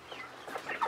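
Young chicks in wood chips give a few soft, close peeps in under a second.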